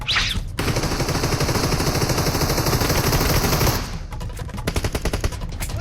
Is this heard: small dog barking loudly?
no